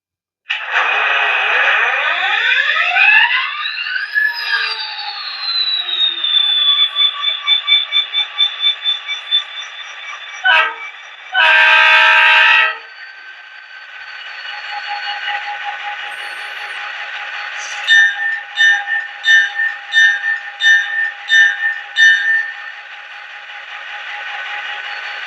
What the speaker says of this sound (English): But let's fire this guy up.